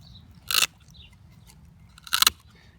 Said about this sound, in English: You'll hear them scales and them ribs clicking in there.